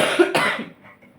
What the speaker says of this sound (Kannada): ಇನ್ನೂ ಕೆಮ್ಮು ಕಡಿಮೆ ಆಗಿಲ್ಲ.